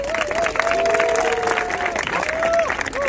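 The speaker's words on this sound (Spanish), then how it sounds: "más fuerte el aplauso, loco" A crowd at a freestyle rap battle league claps loudly and continuously, with cheering and high whistles over the dense wash of hands.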